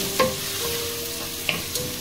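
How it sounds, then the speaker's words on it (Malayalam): Onions sauté in a pan for a masala dosa filling, a soft steady sizzle with a few quick scrapes of a stirring spoon, close and quiet, no voices. "നന്നായിട്ട് വഴറ്റുക"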